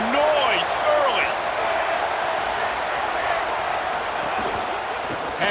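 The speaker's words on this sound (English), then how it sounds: "This crowd bringing the energy and noise early." Stadium crowd in the College Football 27 video game, a loud, steady roar of many voices sustained throughout, with indistinct voices and brief whistle-like tones mixed in.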